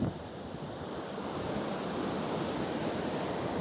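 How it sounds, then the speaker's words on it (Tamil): Water rushing down a hillside at a temple about 1900 feet up, a loud, continuous broadband roar close to the microphone with no talk. "பாருங்க எப்படி தண்ணி வருதுன்னு பார்த்துக்கலாம்."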